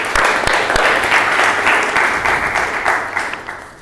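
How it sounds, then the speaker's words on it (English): Audience at a free software talk breaks into a steady round of applause, dense close clapping throughout that tapers slightly at the end. "give yourselves a big round of applause"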